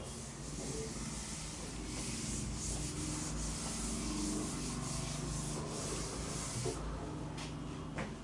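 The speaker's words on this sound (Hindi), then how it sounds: "मैं ऊपर रब कर देता हूं" Steady dry rubbing of an eraser or duster across a board during a statistics lesson, a continuous scrubbing hiss that runs close and loud through the whole stretch with no talk over it.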